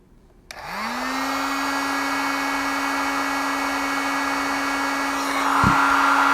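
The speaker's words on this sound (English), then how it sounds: "I'm applying some heat using this heat gun" A heat gun blows hot air onto a BMP390 pressure and temperature sensor, starting with a click and rising into a loud, steady whirring roar that holds for several seconds.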